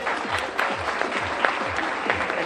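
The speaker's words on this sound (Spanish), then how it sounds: "Un fuerte aplauso, por favor, de nuevo, para ella" A crowd applauds a DJ instructor at a course presentation, steady dense clapping from many hands with faint rhythmic low pulses of music underneath.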